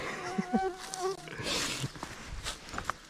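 Mosquitoes buzzing in a dense forest thicket, a thin, wavering whine rising and fading as insects pass close, with brief rustles in the undergrowth.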